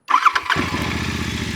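A Royal Enfield motorcycle starter whirs briefly before the engine catches and settles into a loud, steady, throbbing idle around 1,100 rpm.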